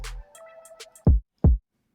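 A second hip-hop kick drum sample strikes twice, each hit a tight, loud low thud that decays quickly, spaced under half a second apart and heard alone after a faint tonal lead-in.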